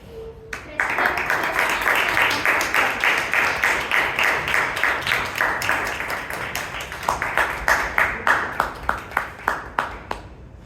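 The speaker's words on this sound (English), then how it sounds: "give her applause and" Audience applause at a Toastmasters club meeting, a dense burst that starts abruptly and holds for several seconds before thinning into slower, rhythmic individual claps toward the end.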